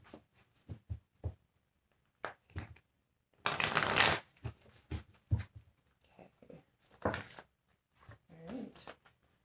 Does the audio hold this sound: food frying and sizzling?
no